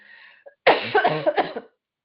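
A single harsh, close cough bursts out after a faint breath, trailing off in a few rough, throaty pulses.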